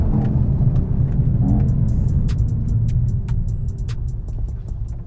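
A 2021 Mercedes-AMG E53 or E63 S gives a deep, loud engine and exhaust rumble with a throaty low roar and sharp pops and crackles toward the end, with no one talking.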